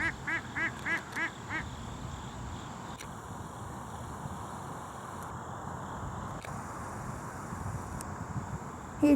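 Geese honking outdoors, a burst of several loud, close nasal honks at the start, then a steady background of wind or water noise with occasional faint calls.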